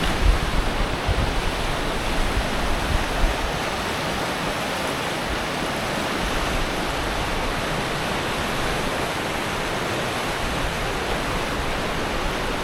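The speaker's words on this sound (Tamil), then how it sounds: "எப்படி பெருக்கெடுத்து வருது பாருங்க நதி." A swollen mountain river in Tajikistan rushes through a valley, a loud, dense, unbroken roar of churning water that holds steady throughout.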